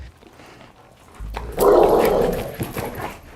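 Leash-reactive dog barking and whining during a training session, a loud burst of agitated barks in the middle after a quieter start, close by and without talk.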